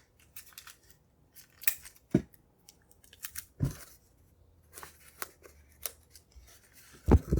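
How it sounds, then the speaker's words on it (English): Scissors snipping through tape during papier-mâché mask crafting, several sharp, close, isolated cuts spaced irregularly with quiet gaps between them. "I'm going to take my scissors and cut them how long I want them to be"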